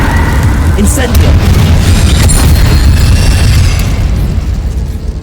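An Incendio fire spell cast in the Hogwarts Legacy video game, a loud close booming burst with roaring crackle that fades away over several seconds, with no talking.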